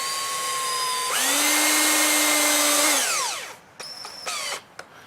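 A cordless power drill drives screws into timber for a raised garden bed, a loud rising whine that holds for a few seconds and then winds down, followed by two brief spurts of the motor, close up.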